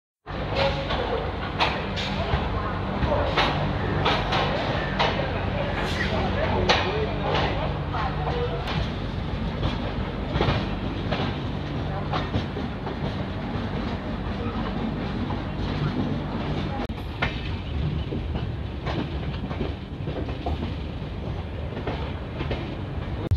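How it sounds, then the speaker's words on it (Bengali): Jasidih Express, train 22305, pulls out of Katpadi Junction with a steady rumble and clickety-clack of wheels over rail joints, close and loud throughout. "28-29-এ আমাদের ট্রেনটা এখন কাটপাড়ি থেকে বেরোচ্ছে।"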